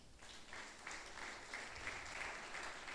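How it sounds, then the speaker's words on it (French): A church congregation claps and acclaims during a French-language service, rhythmic clapping heard faint and somewhat distant over a roomy background. "On acclame le Seigneur"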